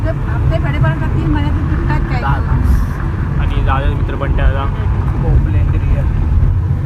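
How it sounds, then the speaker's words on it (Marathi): Inside a moving car heading to a village, a loud, steady low road-and-engine rumble runs throughout beneath continuous talking. "आता मी गाडीमध्ये आहे दादा गाडी चालवतो होता"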